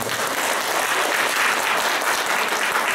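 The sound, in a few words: audience applause for presenters and panelists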